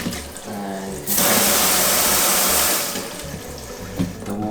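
Water gushes from a dorm sink tap in a steady, close hiss for about two seconds, then tapers off into quieter room noise.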